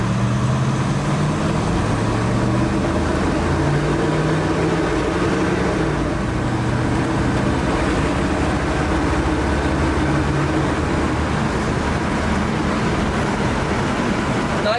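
A 1961 Chevrolet Impala cruises at about 50 mph, its steady low engine drone and road rumble loud and continuous throughout with no speech.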